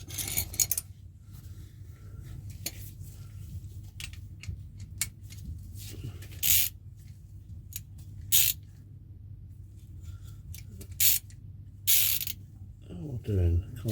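Ratchet clicks and metallic clinks of tools working on bolts on a Rover P6 engine, sharp intermittent bursts close by over a low background hum.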